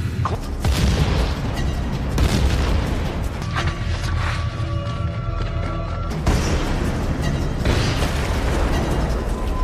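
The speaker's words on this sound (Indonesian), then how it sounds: "Lalu dia langsung meledakkan semua ranjau yang ada di tempat itu." Landmines detonated by a sniper in an underground tunnel battle of a war film, heard as loud, dense, sustained rumbling blasts with a sharp fresh burst partway through, continuous and with no talk.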